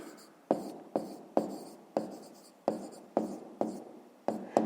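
Pen strokes scratching across paper while writing out a math exercise, a series of about nine sharp-onset strokes at a steady pace, each fading quickly, close and alone without speech.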